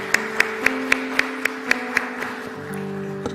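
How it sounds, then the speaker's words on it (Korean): Church congregation clapping together in a steady rhythm of crisp, even claps over a sustained musical drone. "축복의 박수 같이 하겠습니다."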